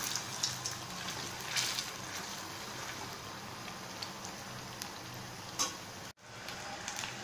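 Paneer pieces frying in hot oil, turned over partway, give a steady close sizzle with scattered crackles and pops, briefly cut to near silence toward the end.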